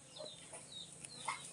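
Chicken clucking on a farm, a few short, faint clucks and chirps spread across a brief quiet moment, with no talk.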